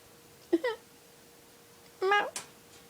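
A cat lets out two short, plaintive whimpering mews about a second and a half apart, close by in a quiet room.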